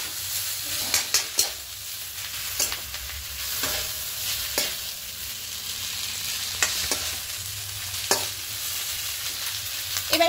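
Egg chow mein with vegetables and bhujia fries in a pan with a steady sizzle, while a utensil stirs and scrapes at intervals.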